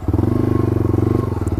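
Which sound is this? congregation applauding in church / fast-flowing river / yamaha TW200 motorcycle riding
yamaha TW200 motorcycle riding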